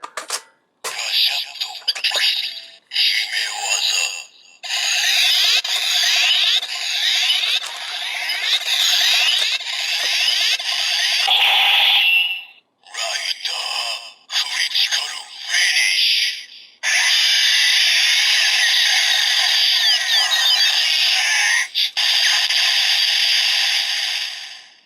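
Loud, bright electronic sound effects from a Kamen Rider Ex-Aid DX Buggle Driver II toy belt's critical finish play in bursts with short gaps, bleeping, whooshing and chiming tones close up, with no talking.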